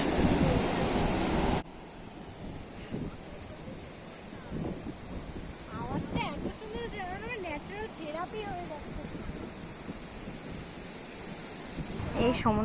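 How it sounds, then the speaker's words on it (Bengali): Sea surf washing onto the shore after dark, a steady broadband rush with gentle swells that fills the whole clip, with faint voices in the background partway through. "সমুদ্রের আওয়াজটা এখান থেকেই পাওয়া যাচ্ছে জলের।"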